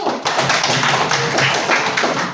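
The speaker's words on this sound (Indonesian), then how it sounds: "kasih tepuk tangan untuk kelompok 1" Classroom students clap for a group that has just presented, a short burst of quick, close hand claps lasting only a couple of seconds.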